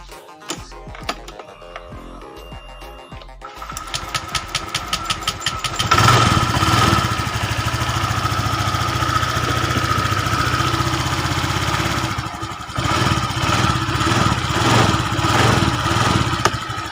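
A motorcycle engine with a leaking water pump seal, started from cold: a few quiet mechanical clicks and cranking, then the engine catches and settles into a loud, steady idle that dips briefly before running on.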